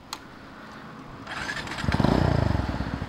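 A Kawasaki W175 motorcycle with modified main and pilot jets and an SAC full-system exhaust starts up, its single-cylinder engine catching after a second and settling into a loud, steady, throbbing idle close by.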